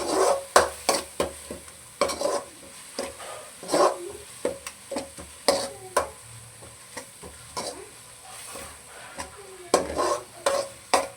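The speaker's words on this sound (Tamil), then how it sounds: "இதை நல்லா மிக்ஸ் பண்ணி விட்டுக்குவோம்" A spoon stirs mutton curry with ginger garlic paste in a pan, making repeated sharp scraping taps in an irregular rhythm over a steady low sizzle, close by and with no talking.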